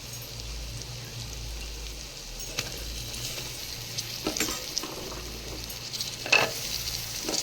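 Masala and chopped vegetables sizzling and sautéing in a hot pan for vegetable biryani, a steady crackling fry with occasional stirring scrapes, close and continuous.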